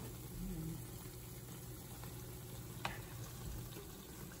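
Oreos fry in hot oil for a crispy finish, producing a faint, steady sizzle and bubbling that carries on throughout without talk.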